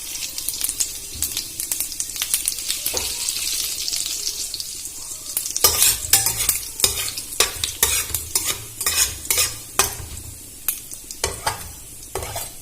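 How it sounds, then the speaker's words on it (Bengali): Bay leaves, dried red chillies and whole cumin seeds spitting in hot oil for tempering, a steady close sizzle broken by sharp crackles and stirring clatter that turn busier and more percussive midway. "তেলটা গরম হয়ে গেছে, আমি ফোড়নের জন্য দিয়ে দেব 2টো তেজপাতা, 2টো শুকনো লঙ্কা আর"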